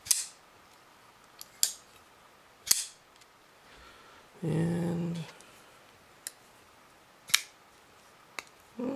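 Several sharp metallic clicks and snaps of a Boker Plus Kwaiken titanium flipper knife blade flicking open and locking, spaced irregularly, with a brief rustling scrape in the middle.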